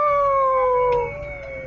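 A child imitates a wolf howl with one clear, sustained, slightly falling tone that lasts about a second, followed by faint room noise.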